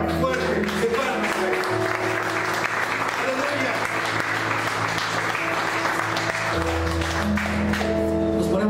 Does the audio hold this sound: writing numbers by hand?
no